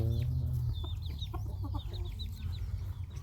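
Chickens clucking while feeding at a rural home, several short clucks and chirps scattered over steady low background noise, fairly faint and moderately near.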